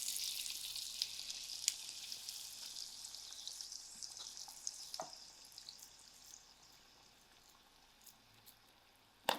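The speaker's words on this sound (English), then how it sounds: "Make a small hole, not too deep, and then put it into the heated oil." Falafel balls frying in heated oil, a faint, steady high crackle and fizz of bubbling oil with a few small pops and one soft knock, fading slightly toward the end.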